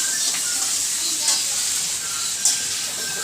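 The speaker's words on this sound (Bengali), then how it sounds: "খাসির মাংস রান্না হচ্ছে" Mutton curry sizzling in a pan, a steady bright hiss running throughout with a couple of louder flare-ups, close and fairly loud.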